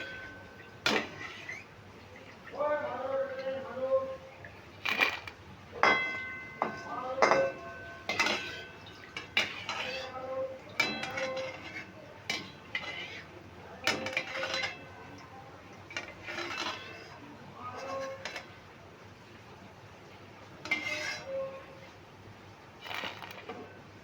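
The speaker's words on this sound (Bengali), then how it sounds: "দেখো কতটা মুচমুচে হয়েছে তোমরা শব্দ শুনে বুঝতে পারছো" Crisp fried Bengali seo bhaja (jhuri bhaja) noodles tossed and handled in a pan, giving repeated dry crunchy rustles and light clinks at close range, scattered across the whole stretch without talk.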